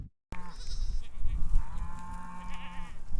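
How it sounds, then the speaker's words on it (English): Newborn kid goats, myotonic crosses, bleat close by at kidding time, a couple of thin, wavering cries rising over a low rustling background after a brief silence at the start. "Baby goats are being born everywhere"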